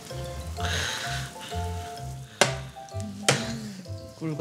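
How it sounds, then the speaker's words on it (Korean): Gentle sizzling crackles of beef cooking in a hot pan under a low humming background, with two sharp clinks or taps partway through; no one speaks. "지글지글 소리 나"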